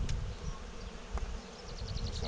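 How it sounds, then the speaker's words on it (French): Honeybees hum steadily around an opened Dadant hive during an inspection, a close, continuous buzz with a few individual bees zipping past near the end. "C'est un bonheur ces abeilles."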